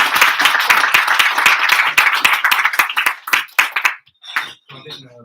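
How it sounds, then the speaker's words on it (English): An audience at an evening talk event applauds as a speaker comes up, loud rhythmic clapping close by that dies away after about four seconds, followed by a few faint clinks and a voice. "So can you give him a big round of applause?"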